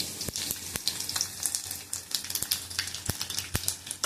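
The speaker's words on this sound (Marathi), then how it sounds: "आता आपण फोडणी देऊ" Tempering for a mixed-dal amti crackles in hot oil in a home kitchen, with a steady frying hiss broken by sharp pops and spatters at irregular intervals, close and moderately loud, with no talking.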